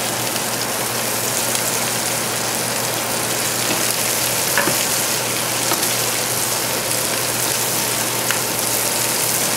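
Parsley, carrots, onion and celery sizzle in a pot over a high flame for a crab bisque, a loud, dense, continuous frying crackle with scattered sharper pops and no talking.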